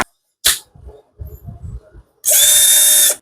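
A cordless drill with two-speed gearing and forward/reverse switch whirs loudly and steadily for about a second at the end, after a short burst and some quiet handling knocks.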